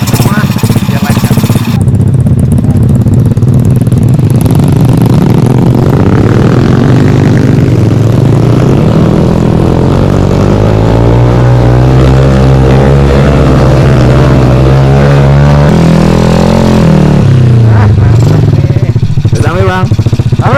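A motorcycle labours up a mountain trail on the Argopuro climb, its engine droning loud and close throughout, pitch climbing steadily as it accelerates before easing off near the end.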